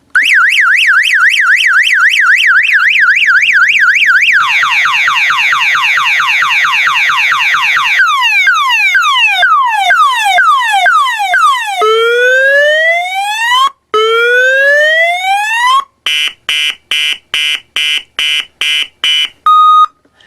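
An aftermarket car alarm siren from around 2003 cycles loudly through its tones: a rapid warble, a rising whoop, repeated upward sweeps, then sharp on-off beeping, all harsh, close and uninterrupted.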